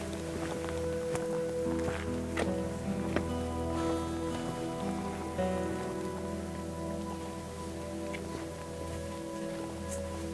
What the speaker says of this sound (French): Hey, il pleut un peu, hein.